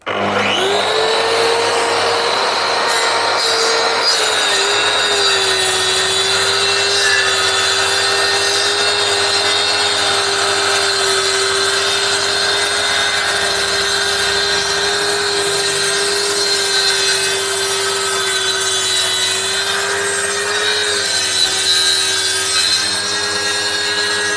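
A Mafell MT55 plunge saw runs loudly and continuously, its motor whine steady as the blade cuts through wood for the whole stretch, with no talking.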